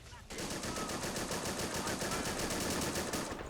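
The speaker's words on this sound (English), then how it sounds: "MG42, or rather 30 cal rather from the Stewart firing" A .30 cal machine gun on a Stuart tank hammers out one long sustained burst of rapid automatic fire in the Men of War: Assault Squad 2 game, loud and steady from start to finish after a brief quiet opening.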